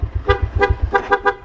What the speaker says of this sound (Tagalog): Yung busina, alam mo yung sikat sa TikTok.